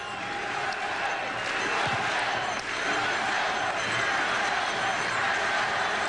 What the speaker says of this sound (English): And the crowd has picked it up.